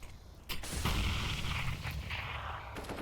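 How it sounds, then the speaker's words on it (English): A grenade goes off in a competitive CS:GO match on the Cobblestone map, a loud, sustained blast with low rumble and crackle holding for a couple of seconds amid game noise. "an initial grenade dealing a smidgen of damage"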